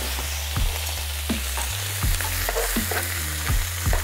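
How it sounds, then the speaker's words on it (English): Kidneys and livers sear in a hot pan with a steady loud sizzle, broken by several sharp scraping stirs at regular intervals; no talking. "So, a little bit more searing"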